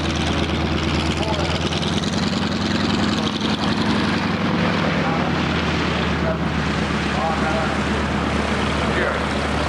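A propeller warbird drones steadily overhead at an air show, a loud continuous buzzing roar mixed with wind rumble on the microphone.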